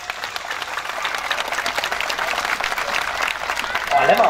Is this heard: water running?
no